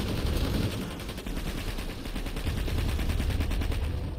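Steady, loud automatic gunshots in Planetside 2, rapid overlapping bursts from several weapons forming a dense, continuous fusillade with no talking.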